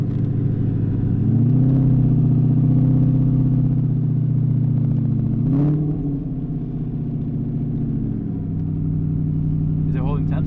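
A BMW E30 fitted with an M60 V8 pulls along on a test drive with a sticking gas pedal, its engine droning low and steady, swelling briefly twice as throttle changes, with voices talking over it.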